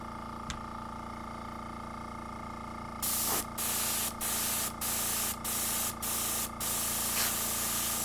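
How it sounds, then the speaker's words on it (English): An airbrush with a partly clogged head spraying paint while a fantasy miniature is painted, heard as six short, loud hissing bursts in a steady rhythm, close by, with a faint background hum. "Oh yeah, there's plenty of airbrush pressure."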